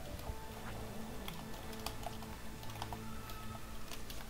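Computer keyboard typing in rapid, irregular bursts of clicky keystrokes, close and fairly quiet, with no voices over it.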